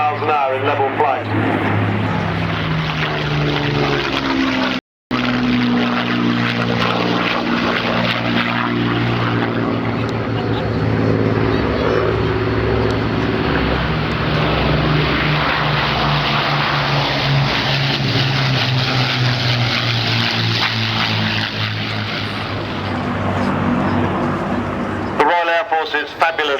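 A Hawker Hurricane propeller fighter flying at a Battle of Britain air display, its piston engine droning loud and steady for nearly half a minute with a shifting pitch, while an announcer talks over it.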